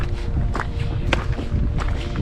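Footsteps of hikers with children marching along mountain trail 301 toward the Gagliarda pass in the Brenta Dolomites, a steady run of crunching steps close by, with no talk over them.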